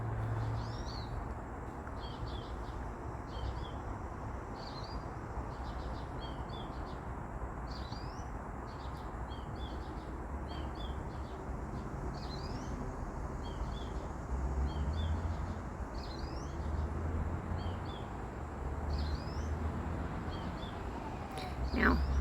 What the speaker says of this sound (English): this bird that is constantly yelling